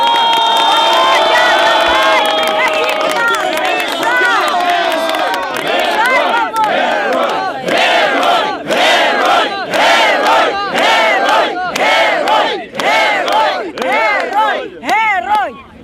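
A large crowd at a rally in a town square in Kryvyi Rih, Ukraine, cheers and shouts loudly, with voices chanting in rhythmic bursts and whoops rising over a continuous roar of people.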